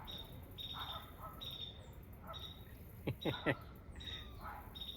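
Faint bird calls chirp repeatedly in short bursts over steady insect trilling, with a few louder sharp notes near the middle.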